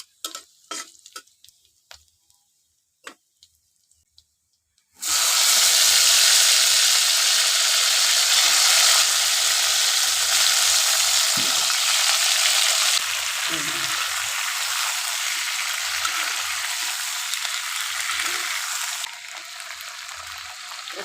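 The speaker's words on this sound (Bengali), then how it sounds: "সরিষার তেল আর থেতানো রসুন এটা একটু ভাজার পরে তারপরে আমগুলান দিয়ে দিই" Crushed garlic frying in mustard oil, a loud, steady sizzle that bursts in suddenly after a few seconds of quiet clinks, then holds close and constant.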